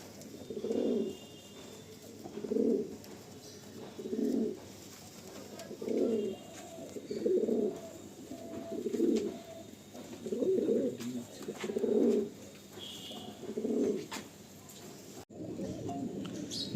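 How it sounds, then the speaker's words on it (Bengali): Lalsira and Fulsira pigeons coo in a loft, about eight rounded, throaty bursts repeating every couple of seconds, close and steady against a faint background hiss, with no talking. "এত সুন্দর পায়রা"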